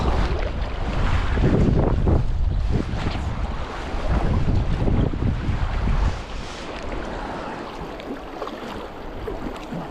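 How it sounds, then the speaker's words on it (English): Cold northeasterly wind gusting on the River Spey during spring salmon fishing, buffeting the microphone in a loud, continuous roar that eases after about six seconds, with no talking. "it's a cold northeasterly wind"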